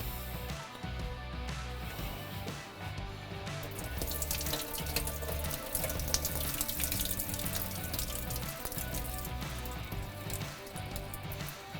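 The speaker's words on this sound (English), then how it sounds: "We're gonna drain the water off of them" Soaked onions have their soaking water drained off in a kitchen, a steady splashing pour that grows louder and brighter partway through and runs on without pause, with no talking.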